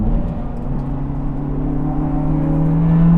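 Sports car engine on a race track climbing through the revs, a steady harmonic whine rising in pitch and growing louder, with no talk.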